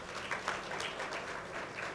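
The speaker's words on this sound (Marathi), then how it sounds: "तुमच्यासाठी पहिले टाळ्या" Audience applause in a hall, a dense steady clatter of many hands clapping at moderate, fairly distant level, continuing evenly without voices over it.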